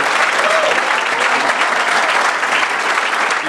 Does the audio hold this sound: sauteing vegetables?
no